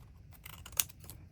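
Scissors snipping a tiny Christmas scrap paper strip, a few quiet close cuts with one sharper snip in the middle, no talk.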